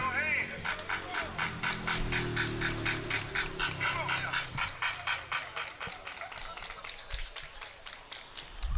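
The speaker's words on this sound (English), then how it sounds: "Everybody clap your hands." A baseball crowd claps in a steady, evenly spaced rhythm for several seconds, with muffled voices underneath.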